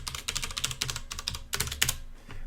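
Rapid bursts of keystrokes on a computer keyboard as a password is entered during login to a secure Ubuntu system, close and crisp, in uneven clusters with short pauses.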